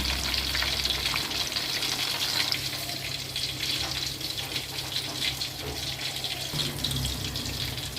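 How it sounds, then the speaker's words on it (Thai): Battered pork pieces and chunks of garlic fry in hot oil, giving a steady, close, dense sizzle and crackle that runs the whole time with no talk. "ใส่แป้งแล้วก็ทอดไปด้วยกันให้มันหอม"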